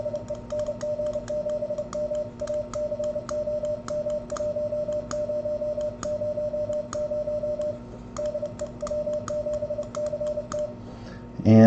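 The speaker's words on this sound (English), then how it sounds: "we'll just key a little CW here, and you should be able to hear the side tone" A Morse code CW side tone sounds from an ACOM 1000 ham amplifier setup keyed into a dummy load. It is a steady, mid-pitched beep, keyed on and off in short rhythmic bursts, with faint clicking throughout. No voices are heard.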